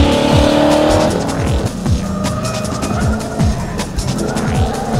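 A hot rod Corvette's engine roars and revs up and down while tires squeal and skid repeatedly, loud and close.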